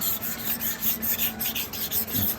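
Rhythmic rasping strokes of sandpaper scrubbing a yellowed, aged car headlight lens on an old Daihatsu Atray Wagon Custom RS, close and steady with repeated back-and-forth passes and no talking.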